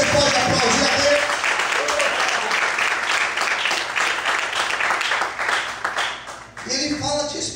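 A church congregation bursts into loud, sustained applause during a worship service, and the clapping thins out toward the end.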